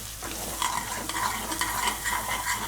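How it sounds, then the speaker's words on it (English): Garlic and cumin seeds sauté in hot mustard oil, giving a steady close sizzle with light stirring scrapes throughout and no talk. "let the cumin seeds and the garlic saute together in the mustard oil"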